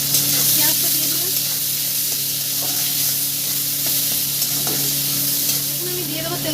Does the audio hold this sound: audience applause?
no